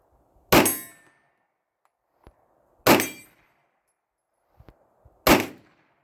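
A Glock pistol fitted with a compensator and a threaded conversion barrel firing Winchester ammunition outdoors, three loud, sharp, evenly spaced shots, each followed by the faint clink of ejected brass.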